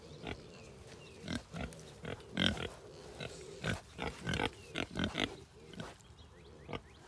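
Newborn piglets in a pig pen give a quick run of soft grunts and short squeals, irregular bursts close by at low volume.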